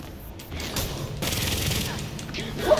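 Sustained rapid gunfire from Gotham Knights gameplay rattles for about two seconds, moderately loud and steady, set between quieter stretches with faint game sounds.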